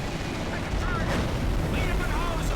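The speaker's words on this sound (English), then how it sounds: "I'm being shot at." Gunfire and blasts in Medal of Honor: Rising Sun on PS2 make a dense, rumbling barrage with sharp bursts, and muffled voices sound through the din.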